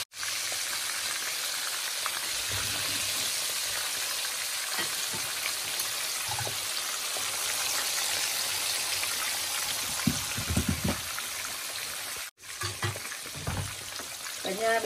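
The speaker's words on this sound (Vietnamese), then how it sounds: "bây giờ phải chiên cá cho cái nhà nha Cường." Two fish fry in hot oil in a home kitchen, giving a steady, loud sizzling hiss that runs the whole time, with occasional faint clinks and stirring noises.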